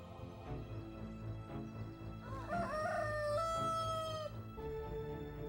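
A rooster crows once, loud and drawn out, rising then holding a long tone, with farmyard clucking and ambient noise around it.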